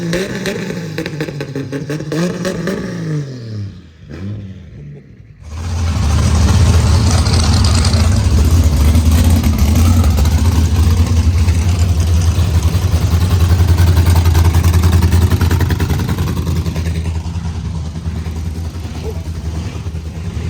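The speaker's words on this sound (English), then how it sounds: "Give her a little rev for us, Coco." A car engine at Summernats idles with some background noise, then at about five seconds it revs up into a loud, sustained, rumbling roar. The engine stays close and heavy and eases off only slightly toward the end.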